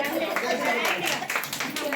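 A crowd at a 25th wedding anniversary celebration claps in a steady, dense patter, with voices chattering underneath throughout.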